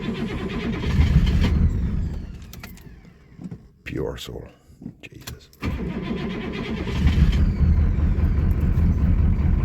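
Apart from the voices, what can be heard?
cold start of Oldsmobile 5.7 diesel engine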